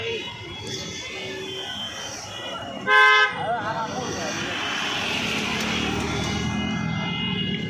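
Road traffic jam with a constant rumble of engines and a single loud vehicle horn blast in the middle, while a voice talks over the noise.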